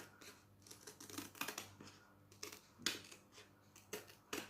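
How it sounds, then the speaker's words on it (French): Orange Halloween craft scissors cutting all the way around paper for a gnome decoration, giving repeated crisp snips and blade scrapes at an uneven pace, close and quiet, with no speech. "Je vais donc couper au ciseau d'Halloween, mes ciseaux orange d'Halloween."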